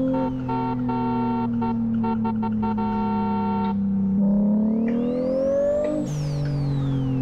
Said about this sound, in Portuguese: Adoro o som do motor.